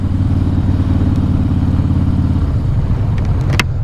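A 2014 Harley-Davidson Breakout FXSB rumbles loudly and steadily during a test ride, its deep engine drone continuous throughout with a brief clatter near the end.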